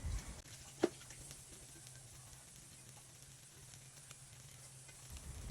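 Onion leaves stir-fry in a pan with a soft, steady sizzle, a faint hiss broken by one sharp clack of a utensil near the start.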